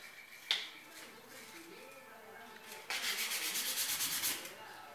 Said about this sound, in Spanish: Y la lijamos muy suavemente.